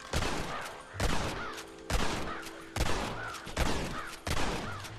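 Gunfire from a repeater carbine in the video game Red Dead Redemption, a series of six loud, evenly spaced shots, each followed by a brief ringing decay.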